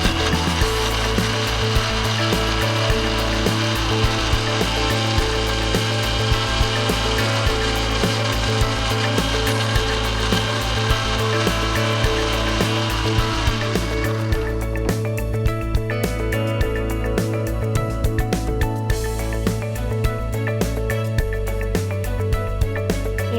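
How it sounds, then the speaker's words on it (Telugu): A mixer grinder blends muskmelon with milk, sugar and cardamom in a loud, steady motor whine with a rattling, pulsing texture that shifts in tone partway through and runs without pause, with no voices. "ఇప్పుడు వీటిని మెత్తగా మిక్సీ పట్టుకోవాలి."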